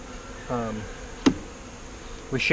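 Italian honey bees buzzing around a nuc hive being installed outdoors, heard as brief close buzzes of individual bees passing near, with a short sharp knock in between.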